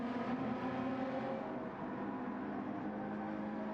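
A Porsche race car engine in Gran Turismo 7 drones steadily at high revs during a Gr.4 online race in Austria, a continuous dense buzz with no talk.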